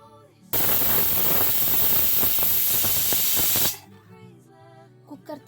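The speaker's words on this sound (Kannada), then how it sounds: "1 ವಿಷಲ್ ಮಾತ್ರ ಕೂಗಿಸ್ಕೊತೀನಿ." A pressure cooker cooking methi pulao vents steam in one loud, sustained hissing whistle lasting about three seconds, then cuts off abruptly; a voice is heard faintly before and after.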